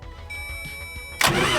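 An overland vehicle's engine, with a fuel shut-off solenoid propped upright after a fix, cranks with a few rhythmic starter turns under a steady tone, then fires abruptly into a loud running roar near the end.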